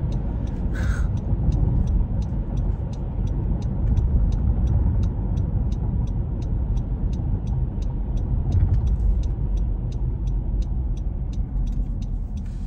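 A car driving in traffic gives a steady, loud low road and engine rumble throughout, with a regular ticking pulse above it, like an indicator, and a few brief sharp calls that could be a crow, close up, with no speech.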